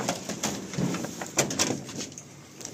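Pigeons in the female section of a pigeon sale in Kolkata coo softly and shuffle, with scattered short calls and flutters over a quiet background.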